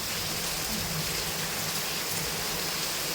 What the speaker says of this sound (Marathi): आता जाता जाता हा एवढा मोठा पाऊस पडतो